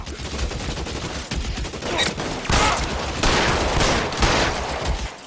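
Rapid gunfire fills a 1940s Los Angeles police shootout in L.A. Noire, dense overlapping bursts of shots crackling continuously and loudly with a few heavier reports standing out.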